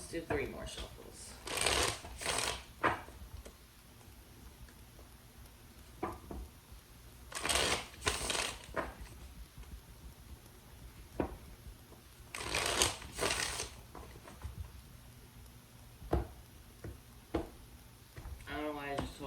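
A tarot deck is shuffled in repeated quick riffling bursts, close and crisp, separated by quieter stretches of card handling.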